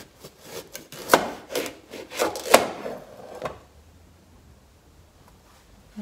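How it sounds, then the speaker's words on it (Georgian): A knife cutting through a whole pumpkin in a home kitchen, with a series of close, woody crunching and scraping strokes for about three seconds, then quiet. "ეხა ვიღებ ესეთ გოგრას და ვჭრი."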